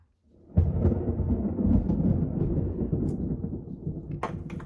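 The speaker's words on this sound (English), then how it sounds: "There's that thunder." Deep, continuous thunder rolls from a thunderstorm, starting with a sudden loud crack and rumbling on steadily throughout, with faint rain and a small clink near the end.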